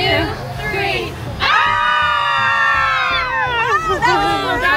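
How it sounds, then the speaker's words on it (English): People screaming and whooping at a SeaWorld Halloween event in Orlando, a loud sustained scream rising over crowd chatter and children's voices, with talk around it. "Oh, add some screams. Scream into it."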